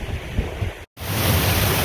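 A natural waterfall on a winter creek on wooded off-grid land makes a loud, even rush of falling water that continues steadily, broken only by a brief cut near the middle.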